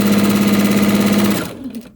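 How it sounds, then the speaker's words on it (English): A sewing machine chain stitching charm squares for a quilt runs in a fast, steady close hum for over a second, then stops, leaving faint handling sounds. "as always, chain stitching just saves so much time"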